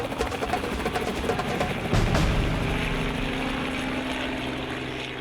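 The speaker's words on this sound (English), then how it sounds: "The noise of the helicopter keeps his mother away." A helicopter hovers over a rhino treatment site in the African bush, its rotor and engine producing a loud, steady, throbbing drone that surges slightly and then holds, with no speech.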